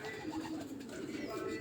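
A breeder pair of pigeons on a rooftop, giving low, soft cooing that sits faintly under background noise and a voice.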